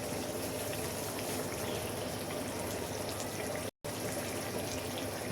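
Fish and pineapple curry with tomato simmering in a pot, a steady, dense bubbling hiss that runs without a break apart from one very short dropout.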